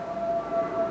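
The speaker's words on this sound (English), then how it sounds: "I don't know if we're picking up that aircraft coming by." An A-10 military jet passes overhead outdoors as a steady, distant droning roar carrying a thin, sustained high whine, with no talking.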